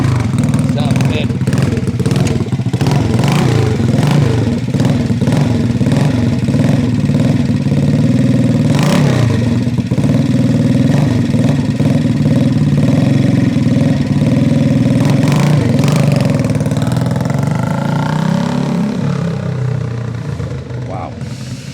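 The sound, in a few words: 1968 Harley-Davidson 250 Sprint motorcycle engine idling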